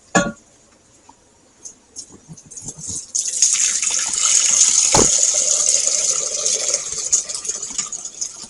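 Hot liquid for dill pickle brine pours from a big measuring cup into a jar with a rising, gushing splash that swells and holds steady for several seconds. A few scattered clinks come before it, and no one speaks.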